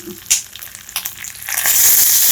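Garlic, green chillies and curry leaves frying in hot oil, a few stirring knocks followed by a loud, rising, close sizzle that builds and holds to the end, without speech.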